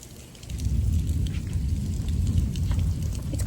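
Rain falls outdoors near a kiddie pool as a steady, close, broadband patter that swells after a quiet start and holds loud, with no voices.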